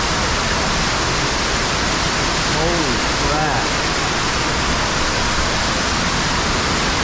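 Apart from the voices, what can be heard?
waterfall roaring inside a cave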